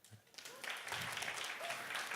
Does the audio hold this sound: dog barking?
no